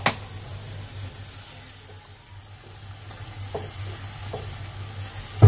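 Halwa roasting and being stirred in a pan over a high gas flame, with a steady low sizzle and occasional soft scraping clinks of the spoon, alone and fairly quiet.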